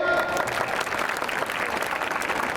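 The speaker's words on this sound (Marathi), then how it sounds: "सो वाजवा टाळी" Applause from an audience at a junior college's annual gathering, a steady, dense wash of clapping that holds loud and unbroken throughout, with no gaps or lulls.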